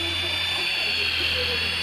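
A small remote-controlled toy helicopter's rotor whirs as a steady, high-pitched electric buzz with a low motor hum underneath, close and constant for a brief moment.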